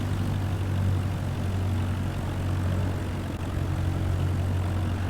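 Cessna light aircraft engine taxiing in Microsoft Flight Simulator 2024, a steady low droning propeller hum that stays loud and constant throughout with no talk.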